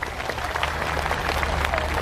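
Audience at an evening religious talk at a police station hall clapping together, a steady, fairly close wash of handclaps mixed with crowd murmur, lasting the whole moment without pause.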